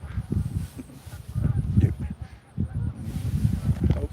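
A lone goose on a small lake honks in repeated, uneven calls toward its departing flock, nearby and fairly loud over a low, rumbling outdoor background.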